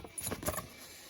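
A mortice lock key being picked up gives a short, close metallic jangle of keys lasting under a second, with no talking.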